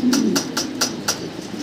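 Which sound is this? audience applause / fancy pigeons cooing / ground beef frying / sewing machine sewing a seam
fancy pigeons cooing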